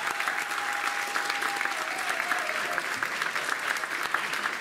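Audience applause at a Christmas charity concert, a dense sustained clapping from a large crowd heard fairly close, steady throughout with a faint tone briefly audible underneath.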